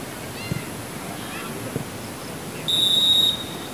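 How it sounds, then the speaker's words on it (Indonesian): A referee's single sustained high whistle blast lasting under a second, marking half-time at a charity football match, heard over a faint ambient crowd murmur and distant voices. "peluit panjang dibunyikan wasit, bertanda babak pertama telah selesai"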